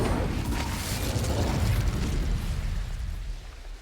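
The Incendio fire spell is cast in the video game Hogwarts Legacy, a loud whooshing burst of flame that roars strongly for a few seconds and then tapers off.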